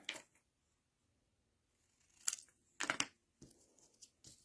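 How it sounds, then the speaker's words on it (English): Scissors trim cardstock for a handmade card, producing a few brief, faint snips and cuts with quiet gaps between them. "so I can trim the berry burst to match the vanilla, and then just trim this to match"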